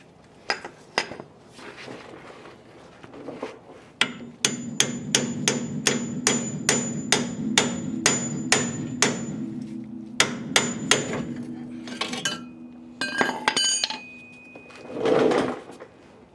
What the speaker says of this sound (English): Just gotta hit it hard, and once it sits, then you can just pound at it really hard.